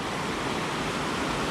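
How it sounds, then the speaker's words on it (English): Stream water rushes down off the Lake District fells near a gate and a little bridge, a loud, steady broadband roar that fills the short moment without any voices. "Plenty of water coming down off the fells."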